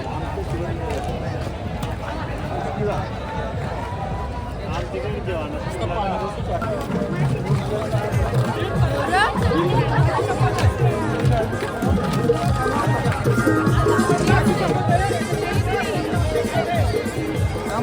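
Crowd chatter at the Ekvira Aai palkhi procession in 2024, a continuous hubbub of many voices near and far, dense and steady throughout without pause.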